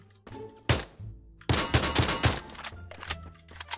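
Shotgun fire in the battle-royale game Free Fire: one booming blast, then a quick burst of several loud shots in close succession, with sharp echoing tails and no talk.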